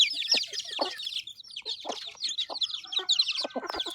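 Village chickens clucking close by in quick, overlapping bursts of short squawks and clucks, busy and continuous over a quiet background.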